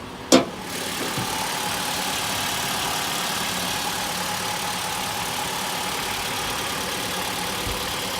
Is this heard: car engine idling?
yes